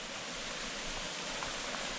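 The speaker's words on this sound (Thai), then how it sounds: "ก็จะเป็นลำธารอ่ะ ตื้นเขินนะครับ" A shallow stream flows at Ang Beng waterfall in Makham, Chanthaburi, making a steady, even rushing hiss of water at moderate distance, unbroken and without voices.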